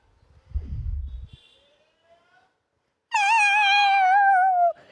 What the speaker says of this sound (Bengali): এই বিড়ালের শব্দ কোত্থেকে আসছে